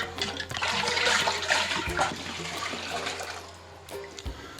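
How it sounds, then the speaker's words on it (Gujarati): Water sloshes and splashes inside a clay water pot as it is rinsed in a tub, a close, gurgling swirl that rises and fades with a few bumps of the pot. "અંદર પણ આપણે થોડું પાણી ઉમેરી અને વોશ કરી લઈશું"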